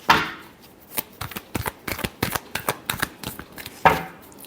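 Tarot cards are shuffled by hand in quick bursts of crisp riffling and slapping, close and dry, with no talking.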